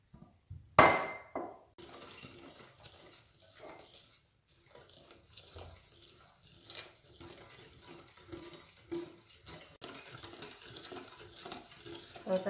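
Faint, close scraping and soft clinks of a spoon stirring milk little by little into a thick poppy seed and vanilla extract paste in a bowl, with quiet pauses between strokes.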